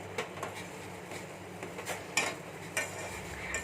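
A spoon stirs a kadha mixture of carom seeds, about four cloves and grated ginger in a pot, giving soft scraping clinks at irregular intervals, with several sharper knocks against the vessel, close and fairly quiet.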